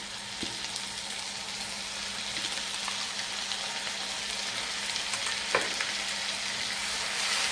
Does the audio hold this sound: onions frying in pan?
yes